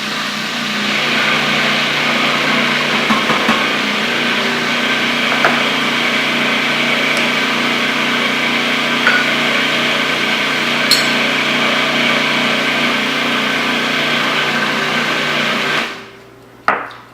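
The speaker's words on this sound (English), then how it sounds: "we're going to put this juice in the chickpeas while the chickpeas are spinning" Food processor spins chickpeas for hummus, a loud continuous motor whir running steadily for about sixteen seconds before cutting off abruptly near the end.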